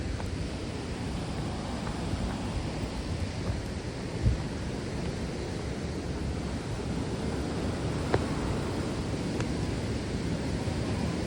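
A steady, distant rushing of a waterfall near Annecy fills the air, a constant broadband roar with a couple of faint knocks.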